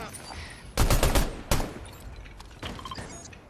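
Fortnite gunfire erupts in a rapid burst of close, loud shots, then a single sharp report, and finally a fainter spatter of fire, all over low game ambience.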